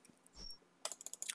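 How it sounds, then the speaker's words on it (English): Computer keyboard typing comes in a quick run of close, crisp key clicks after a soft thump, faint and short with no talking. "Let me type it out so you know what I'm saying."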